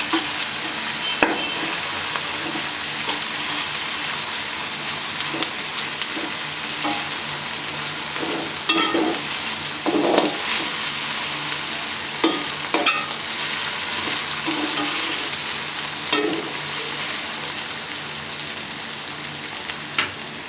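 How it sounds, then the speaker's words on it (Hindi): Ginger and garlic sizzle with onions in a hot pan, a continuous close frying hiss broken by the scrape and clatter of stirring, with no talking. "अदरक लहसुन फ्राई हो चुका है।"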